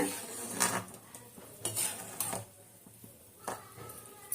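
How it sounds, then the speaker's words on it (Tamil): Metal cookware clinks and clatters in several short, uneven bursts as a pot of fish curry is covered with a plate, with quiet pauses between the knocks. "இறக்கிட்டு தட்டு போட்டு மூடுவோம்"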